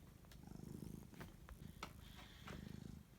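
A pet cat purrs close by in a steady, rhythmic rumble that swells and fades, with a few faint clicks and rustles on a cold, rainy evening.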